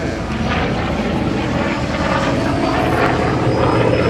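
An F4U Corsair piston fighter roars steadily overhead at an air show, its engine drone loud and continuous as it passes and begins to pull away.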